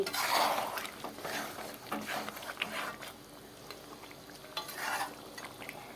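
Mutton curry is stirred in a pan with a utensil, giving scraping, clattering strokes in uneven bursts over a faint sizzle, close and fairly quiet.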